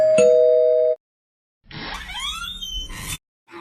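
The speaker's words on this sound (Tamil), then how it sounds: "சரி, காலிங் பெல் அடிச்சு பார்க்கலாம்." A calling bell at a house door: one loud electronic chime held for about a second, then a brighter warbling melodic ding-dong tone, both close and clear, with no talking.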